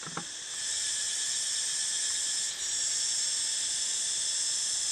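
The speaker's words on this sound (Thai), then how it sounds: "ได้ยินเสียงจักจั่นเรไรนะครับกำลัง กรีดร้องกันระงมป่าไพรเลยนะครับ" Cicadas drone in a community forest at Ban Khwao, Kaset Sombun, Chaiyaphum, a loud, continuous high-pitched shrilling that holds steady throughout with no talk.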